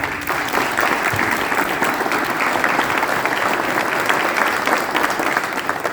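Loud, dense applause from an audience at a political gathering in Quequén, many hands clapping continuously and evenly for several seconds with a faint crowd murmur beneath.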